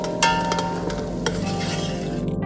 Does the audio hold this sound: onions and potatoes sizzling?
yes